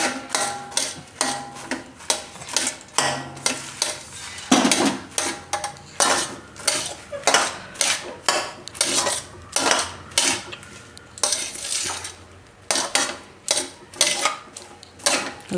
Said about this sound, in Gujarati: આમાં આપણે આ ધાણી નાખતા જાઉં ને મિક્સ કરતા જાઉં.